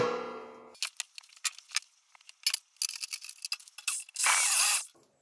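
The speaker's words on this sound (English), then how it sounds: "just drill those out, and we should be in the right area" Drilling out pin punches in a scrap engine sump for a Ford Escort Zetec conversion: a string of short, sharp metallic bursts and ticks, then one longer, loud, steady drill run close by, with no talk.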